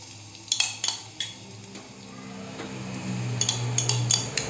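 Ground spice paste sautés in hot oil for a pastry filling while a metal utensil scrapes and clinks against the pan in several sharp taps, a soft sizzle building beneath.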